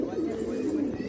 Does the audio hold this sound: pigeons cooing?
yes